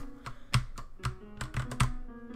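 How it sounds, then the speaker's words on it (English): A loud computer keyboard clacks up close during an Undertale play session, with irregular, sharp keystrokes and a few heavier thumps in quick succession. "My keyboard's really freaking loud,"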